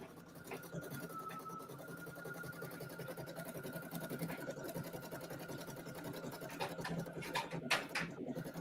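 A 10-needle embroidery machine stitching, a steady fast mechanical whirr running the whole time, with people talking faintly over it.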